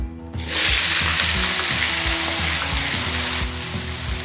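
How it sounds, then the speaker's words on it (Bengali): Chopped vegetables hit hot oil with a whole dried red chilli and five-spice tempering over a medium gas flame, bursting into a loud, steady sizzle that holds throughout with faint stirring scrapes underneath. "গ্যাসের ফ্লেমটাকে মিডিয়ামে রেখে সবজিগুলোকে খানিকক্ষণ ভেজে নেব।"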